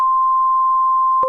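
A clean, steady single-frequency sine test tone used to demonstrate audio on a Pioneer SX-525 receiver, loud and unbroken for over a second before a brief click and pitch change at the very end.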